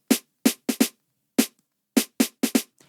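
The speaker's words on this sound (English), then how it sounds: "So I added this snare" Snare hits with EQ and auto pan in a tech house pattern, nine short, crisp, punchy strikes in a bouncy, uneven rhythm with silent gaps between groups.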